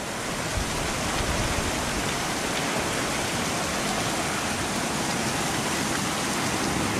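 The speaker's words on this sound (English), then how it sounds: "if I had a rain catchment system right now, it'd be so nice" Heavy rain pours in a dense, steady roar that fills the whole clip without letting up, with no voices.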